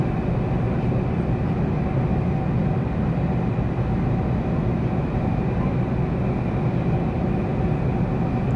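Steady, loud broadband roar of an Air Inuit Boeing 737-200 cabin in flight, a constant low-heavy engine and airflow drone with no breaks and no talking.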